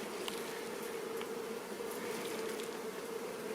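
Honey bees pouring out of a freshly opened hive, a mix of species around a newly introduced queen, make a steady, dense buzzing drone that holds at an even loudness throughout with no talking.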